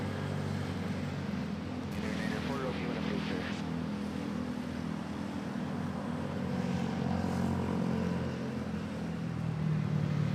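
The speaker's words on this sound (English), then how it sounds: "Cebu Pacific taking off to Hong Kong." A Cebu Pacific airliner taking off for Hong Kong from Manila Airport, a sustained broad jet roar holding steady at moderate distance, with no talk over it.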